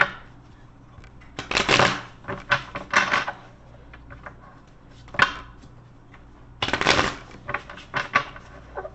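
Bursts of riffling shuffles of a tarot-reading deck, close and crisp, separated by quieter pauses with small handling clicks; three or four distinct shuffles.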